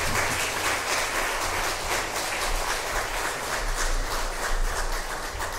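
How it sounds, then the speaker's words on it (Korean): A church congregation claps for their pastor, a steady dense wash of applause with a low rumble underneath, continuous and fairly loud throughout. "목사님 건강하시도록 한번 박수해 주시기 바랍니다."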